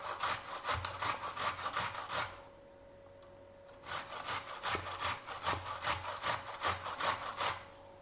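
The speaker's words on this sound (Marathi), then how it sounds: "या बटाट्याची साल न काढता किसून घ्यायचा इथे ना बारीक किसणीनं किसून घेणार आहोत आपण" An unpeeled potato rasps rhythmically against a fine grater in a home kitchen, steady scraping strokes close up, a short pause midway, then more strokes, with no talking.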